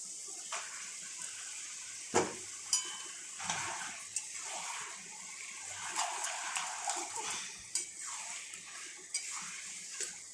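Chicken pieces dropped into sizzling masala in a pan, a wet hiss and sputter with clattering pot and utensil knocks, several sharp bumps over a continuous close frying sound.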